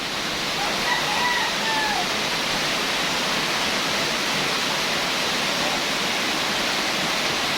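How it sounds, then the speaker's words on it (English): Heavy rain pouring near a river, a loud, continuous hiss of downpour, with a faint rooster crowing far off in the first seconds. "it's really raining so hard"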